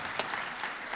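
A short burst of audience applause at a private equity and M&A panel discussion, a crowd clapping steadily with a few sharper individual claps standing out, no talking over it.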